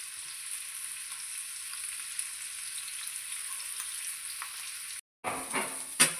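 Sardines fry in oil in a pan with a steady, even sizzle, then a brief silence followed by a clatter and a few sharp clicks near the end.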